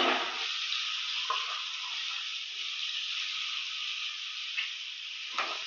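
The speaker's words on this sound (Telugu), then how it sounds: "పొటాటోస్ కలుపుతూనే ఉండాలి ఫ్రెండ్స్" Potatoes stir and fry in hot oil with mustard seeds and cumin, giving a continuous close sizzle with occasional scraping stirs and no talking.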